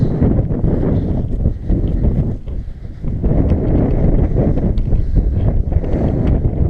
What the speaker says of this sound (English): Oh, that wind is keen.